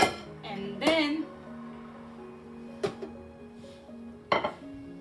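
Khaman dhokla turned out onto a plate, heard as a few sharp metallic clinks and clatters of dishware, spaced apart with quiet kitchen background between them.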